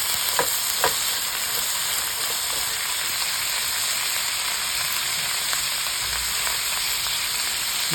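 Boiled chickpeas sizzle steadily in hot tempering oil while a utensil scrapes and stirs the pan a few times, close up and without any talking.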